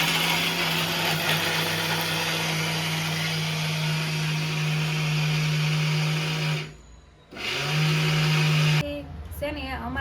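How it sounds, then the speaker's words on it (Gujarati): A kitchen mixer grinder grinding homemade flatbread into crumbs, whining loudly and steadily, cutting out briefly, restarting, then stopping, with a short clatter at the end. "એટલે અમે મિક્સરમાં પીસી નાખ્યા"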